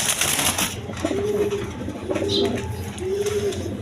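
Danish pigeons coo in three soft, rolling calls spaced about a second apart, close by, over a low background of rustling and other bird noise.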